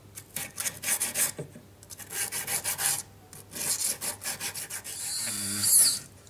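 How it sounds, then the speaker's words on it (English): A needle file wrapped in emery rasps against a round metal basket jewelry setting, giving close, scratchy back-and-forth strokes in steady bursts with brief pauses, ending in a brighter, harsher stretch. "You can wrap a piece of emery around a needle file and just get right into those nooks"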